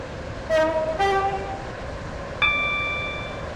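Class 44 train in the Roblox game Stepford County Railway, with two short horn toots near the start and a bright chime partway through, all over a steady running drone.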